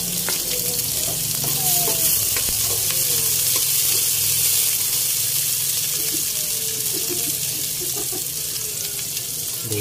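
Garlic and onion sizzle steadily in hot oil for chicken tinola, a continuous close frying hiss with occasional light stirring clinks and scrapes.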